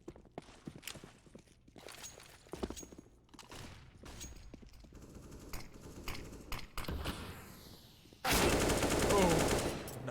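Gunfire in Counter-Strike on the Mirage map during an ESEA MDL Season 36 Europe match, Forze versus GamerLegion: sharp shots and bursts scattered across the clip, with a loud sustained blast of noise near the end.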